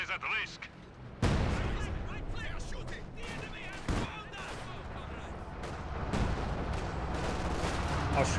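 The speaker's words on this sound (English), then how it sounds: "High speed barrage there onto MG42." Artillery barrage in Company of Heroes 2 pounding an MG42 position: a rapid series of loud, sharp blasts and booms rolling into a sustained rumble, under a commentator's voice.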